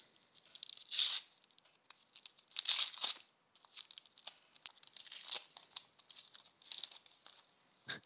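Foil Panini Adrenalyn XL Euro 2020 booster pack torn open by hand, with several bursts of crinkling and ripping separated by quieter rustles, close and fairly soft with no talking.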